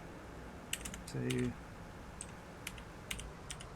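Keys clack on a computer keyboard in short, scattered bursts of crisp clicks, with a brief spoken word cutting in partway through.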